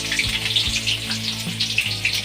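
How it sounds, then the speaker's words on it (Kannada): Chopped onions sizzle and fry in hot oil in a wide pan, a steady, close hiss of frying with no talk over it. "ಎಣ್ಣೆ ಕಾದ ತಕ್ಷಣ ಈರುಳ್ಳಿ ಹಾಕೊಳ್ಳೋಣ."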